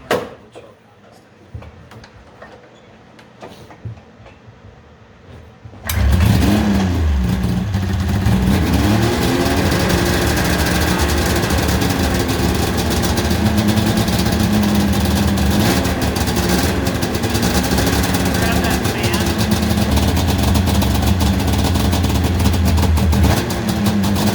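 A 1997 Ski-Doo Mach Z 800 Rotax triple-cylinder snowmobile that sat unused for ten years, heard with quiet faint clicks, then firing up at about six seconds into a loud, steady engine run with slight rev changes.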